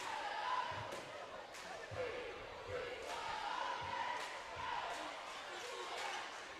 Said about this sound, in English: Cheerleaders sounding loud on the sideline over there, cheering on the Bulldogs.